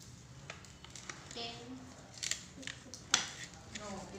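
Scissors snipping paper, heard as a string of soft, irregular clicks and cuts at close range over faint background voices.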